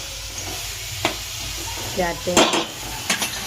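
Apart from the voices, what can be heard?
tempering sizzling in pan for Kathiyawadi bottle gourd curry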